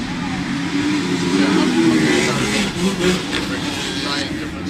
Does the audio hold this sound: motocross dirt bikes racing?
yes